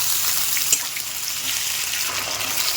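Onion and ginger fry in oil in a pan, giving a steady, close hissing sizzle throughout with one small pop partway in.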